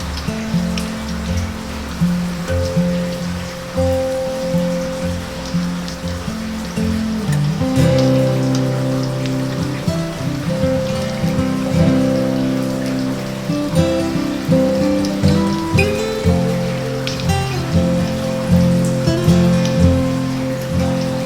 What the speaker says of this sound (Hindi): देखिए बारिश तेज़ होनी स्टार्ट हो गई है।